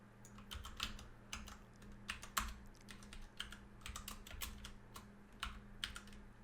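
Fingers tap rapidly on a computer keyboard, a steady stream of close, crisp keystrokes in uneven bursts, with a low electrical hum underneath and no speech.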